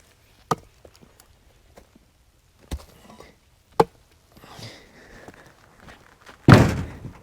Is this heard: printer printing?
no